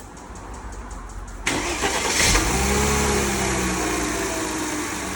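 A car engine, just serviced, cranks and catches, then settles into a steady, even idle that runs close and loud with a continuous low rumble and no voices.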